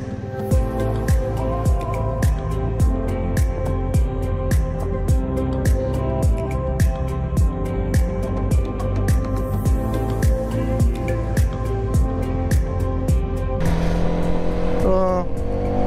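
A Hero Karizma XMR motorcycle's engine runs steadily on a test ride, with a loud, even pulsing drone that rises into a sharper rev near the end.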